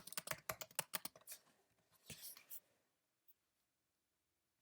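Keys tapped on a computer keyboard while entering a spreadsheet formula in Excel, a quick run of close, crisp clicks followed by a brief pause, a couple more keystrokes, then silence.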